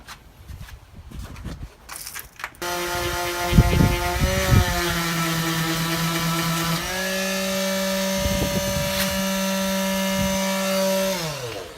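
A power sander works the wood of a custom marquee: brief rough scraping, then a steady, close motor whine with intermittent rubbing bursts as the pad moves across the surface.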